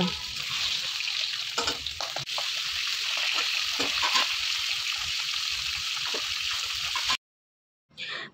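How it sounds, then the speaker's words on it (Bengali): Steady, close sizzling of chopped onions frying in hot oil, with occasional stirring clinks, then a brief pause before the sizzle resumes. "পেঁয়াজটাকে জাস্ট কেটে নিয়েছি, এটাই তেলে ভেজে নেব।"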